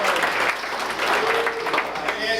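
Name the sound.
comedy club audience applause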